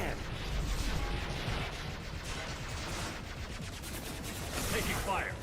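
Firefight in Mass Effect 2 on Insanity difficulty, with dense rattling bursts of gunfire and impacts running throughout. Chirpy effects and voices appear near the end.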